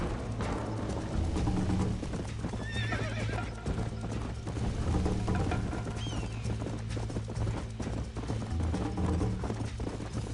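Hoofbeats of a horse galloping in the Red Dead Redemption video game, a steady clip-clop rhythm with a whinny partway through, fairly close over ambient game sound.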